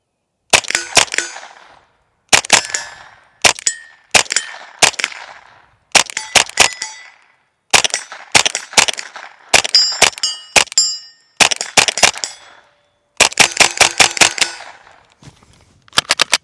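Ruger rifle in .22 fitted with a Dead Air Mask 22 suppressor, fired with a BX magazine: a long series of sharp, loud suppressed cracks, some single and some in quick strings, with short pauses between groups and no talk.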